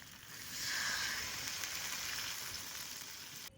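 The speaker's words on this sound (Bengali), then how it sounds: "এবার জল দিয়ে দেবো," Water being poured into a hot pan of oil-fried potatoes and spices for a Bengali home-style fish curry, giving a steady, fairly loud sizzle and hiss that swells early and then holds on its own.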